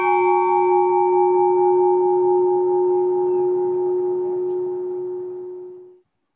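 A bell cast from melted veterans' medals struck once, its strong clear tone and shimmering overtones ringing out loud and close, then slowly decaying for several seconds before being stopped.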